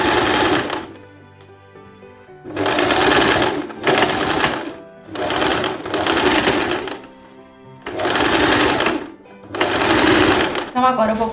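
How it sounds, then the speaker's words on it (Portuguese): A sewing machine stitches fabric ruffles together for a tiered dress in loud, close bursts of rapid whirring, with someone talking in Portuguese in the pauses between runs. "você vai costurar cada babado um no outro"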